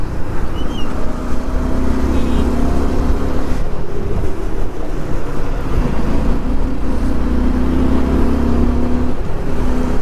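A Yamaha R15 motorcycle driven hard nearby, its engine a steady loud drone with sustained tonal hum and brief shifts in pitch, running continuously without talk.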